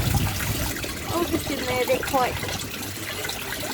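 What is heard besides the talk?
water being poured into aquaponics pump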